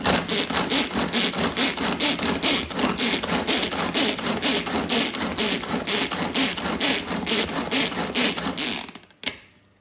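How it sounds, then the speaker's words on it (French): A handheld food chopper rapidly chops onion, a dense, steady run of rhythmic scraping whirs close up that continues for most of the stretch before stopping abruptly near the end. "je viens m'aider de mon hachoir pour hacher mon oignon"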